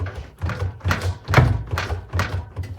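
A Gorenje WS168LNST washing machine with weak shock absorbers, pushed by hand so it bangs: about six loud, dull thumps come at a steady half-second rhythm, close by, with no talking.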